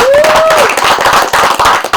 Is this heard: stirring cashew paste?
no